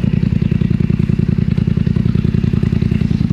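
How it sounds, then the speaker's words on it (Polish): A Polaris Sportsman XP 1000 ATV fitted with a Big Gun Exo slip-on exhaust idles with a steady, rapid low putter and faint mechanical clatter, close and loud throughout, with no talking. "Na wolnych obrotach pykam sobie tak."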